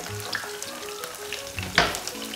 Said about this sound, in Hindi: पनीर को बहुत ज़्यादा लाल नहीं करना है हल्का सा ब्राउन होने तक इसे फ्राई करेंगे